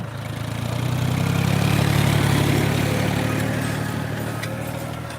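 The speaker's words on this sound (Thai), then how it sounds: "มาไถหน้าครับมาเบิ้งรถไถครับ ไถหน้าตอนกลางคืนครับผม" A tractor ploughing a rice field at night runs with a loud, close, continuous engine drone that swells slightly in the middle, with no voices.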